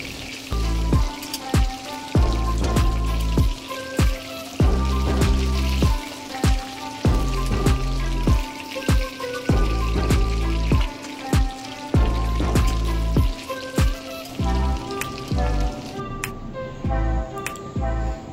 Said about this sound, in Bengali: আমি যেভাবে ভেজে নিচ্ছি, যেরকম কালার করে আপনারা ঠিক এভাবেই মাছগুলোকে ভেজে নেবেন